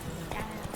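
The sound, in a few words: horse hooves clip-clop in The Witcher 3 video game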